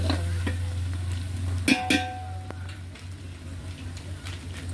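Chopped tomatoes are stirred and fried in a pan for homemade chicken biryani. A spoon scrapes and clinks against the pan twice over a low, steady sizzle, with no talking.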